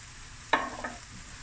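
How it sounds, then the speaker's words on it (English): A tomato and onion mix hits a hot pan, giving a sudden loud sizzle with a stir that fades within a second, then a smaller second burst of frying. "Now I'm going to add a tomato and onion mix."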